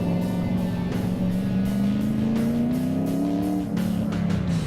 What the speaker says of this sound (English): Drifting through another gate and no cones. Still drifting.